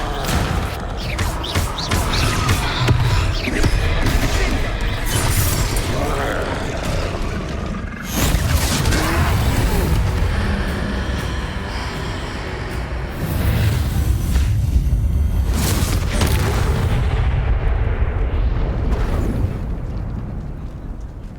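Confringo blasting spells detonate in Hogwarts Legacy, with a string of loud, booming explosions and rumbling bursts that keep going almost without pause, together with crashing impacts and a few quieter gaps between blasts.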